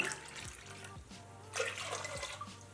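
Rice and lentils for spicy khara pongal being rinsed in water, giving a steady, fairly close sloshing and splashing wash with no voice over it.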